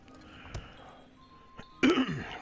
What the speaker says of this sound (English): I keep having to clear my throat